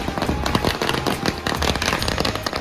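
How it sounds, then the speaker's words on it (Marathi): A rapid barrage of firecrackers crackles densely and continuously at a Shiv Jayanti festival celebration, loud and close, with sharp overlapping bangs filling the whole moment. "फटाके लावत आहेत"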